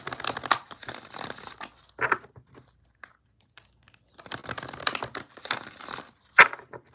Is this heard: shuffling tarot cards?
yes